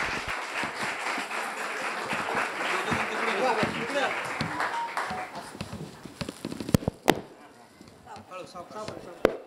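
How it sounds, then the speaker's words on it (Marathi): A school hall audience claps loudly in welcome at a student felicitation and career counselling event, a dense, sustained burst of applause for several seconds that thins out into a few scattered louder claps toward the end. "सर्वांनी एकदा जोरदार टाळ्या वाजवून त्यांचं स्वागत करायचं आहे"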